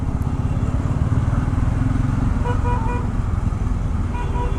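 Busy road traffic on an Indian highway, with a continuous loud rumble of engines close by and a few short horn toots sounding in the second half.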